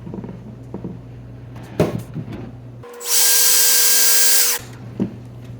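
A power drill bores holes in a plastic rain barrel, one loud sustained high-pitched whine of the bit running for nearly two seconds, with quieter handling knocks before and after.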